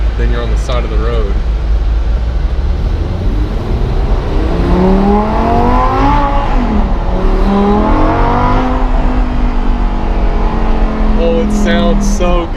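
A Lamborghini Gallardo engine revs loudly over a constant close roar, its pitch sweeping up and down through several throttle blips. Voices are heard talking over it at the start.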